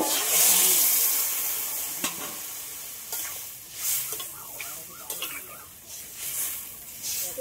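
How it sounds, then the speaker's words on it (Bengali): Water splashes into a pan of fried potatoes and plantain for a thin fish curry, sizzling loudly at first then settling into a softer bubbling with a few stirring clatters, close and alone. "জলটা একটু বেশি করেই দিলাম, হালকা হবে ঝোলটা।"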